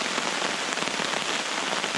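Steady, heavy rain drums on a tarp in a dense, constant patter, close and loud, with no voices.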